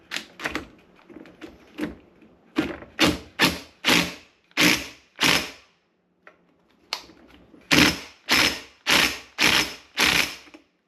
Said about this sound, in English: Right, so that's a 27mm, and we'll torque this to spec right now.